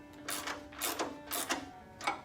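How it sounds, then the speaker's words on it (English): Ratcheting of a 1/2-inch wrench and socket tightening a bolt on a tractor hydraulic mounting bar, heard as four short metallic bursts of clicking spaced about half a second apart, fairly close and with no talking. "with a 1/2-inch wrench and socket, I'm going to go ahead and tighten this up"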